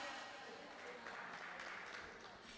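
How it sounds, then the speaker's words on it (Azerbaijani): A crowd at a birthday celebration claps for a singer, with soft, steady applause heard behind ongoing talk. "Gözəl müğənnimiz Dəniz xanımı alqışlayaq."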